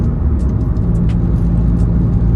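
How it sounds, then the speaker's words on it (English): A passing car heard as a steady low engine rumble and road whir, loud and close with a few faint higher clicks above it, no voices. "Damn, that car's in a hurry."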